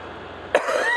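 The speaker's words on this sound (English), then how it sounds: "I keep coughing like an old man" A single sharp cough from a man, sudden and close, cutting through a quiet room before fading into low background hum.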